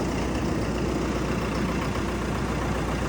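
A heavy tractor engine idles steadily nearby in snowy Canadian conditions, a continuous low rumble with no voices.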